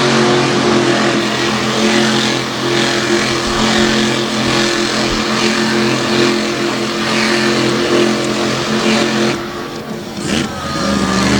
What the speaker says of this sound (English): Brandon Budd and Buckshot trying to push the truck into that cyclone territory with those tires smoking donuts